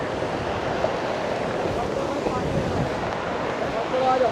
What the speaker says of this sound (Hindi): बढ़िया वाटरफॉल है।